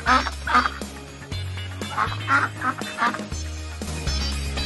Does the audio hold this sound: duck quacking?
yes